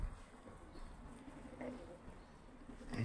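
Pigeons coo softly in a coop, low murmuring calls rising once or twice over a faint, steady background.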